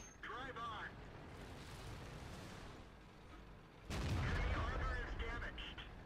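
A VK 45.02 A heavy tank fires its cannon in World of Tanks, two heavy booming blasts a few seconds apart. The second shot is louder and rolls on afterward, and someone talks over the game throughout.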